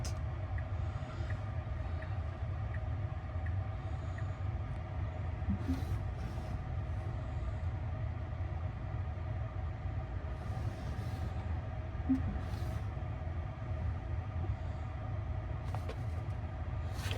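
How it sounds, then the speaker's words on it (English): A Tesla Cybertruck reverses into a parking space under its own self-parking control, giving a steady low hum and drone with faint whirring, continuous and even throughout with no talking. "This vehicle is totally self-parking."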